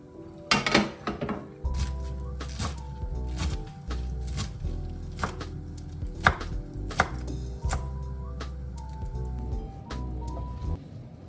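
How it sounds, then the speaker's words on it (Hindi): Washed spinach roughly chopped with a knife on a board, a run of brisk, close, fairly loud thuds in uneven bursts, with faint kitchen clatter in between. "पालक को मैंने धो के स्ट्रेन होने के लिए रख दिया था और रफली चॉप करके"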